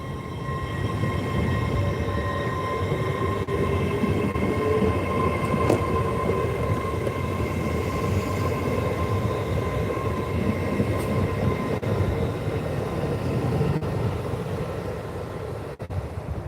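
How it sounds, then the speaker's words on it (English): An LNER passenger train pulls out of Peterborough station bound for York, a low steady rumble of rolling wagons and wheels. Faint squeals and tonal hums ride over it, and a few sharp clicks from the track sound throughout. "So the LNER service to my right is now leaving, which is off to York."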